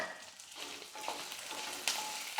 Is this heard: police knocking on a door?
no